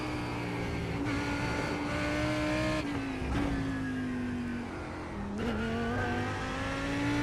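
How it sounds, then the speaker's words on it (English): A Lamborghini V10 GT3 engine in the iRacing game drones steadily at high revs at Road Atlanta, pitch rising slowly, dipping briefly at two gear shifts before climbing again; loud and continuous, no talk. "The Lamborghini just sounds so great, that V10."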